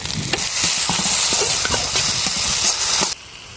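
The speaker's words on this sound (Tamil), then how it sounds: "அடுத்த நம்ம தக்காளியை போட்டுக்குவோம்." Tomatoes and onions frying in a pan over an outdoor village cooking fire, a loud close sizzle with stirring clatter that cuts off abruptly near the end.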